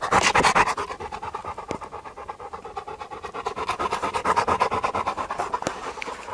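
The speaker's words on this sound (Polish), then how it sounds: "Tak słychać psa po 3 kilometrach" A dog panting rapidly and rhythmically close by after a three-kilometre walk, quick breaths continuing steadily throughout with a few small clicks.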